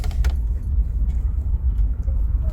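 Car coasting downhill with its engine switched off on Magnetic Hill in Ladakh, a low steady rumble of tires and road noise inside the cabin, fairly even and close with no engine note.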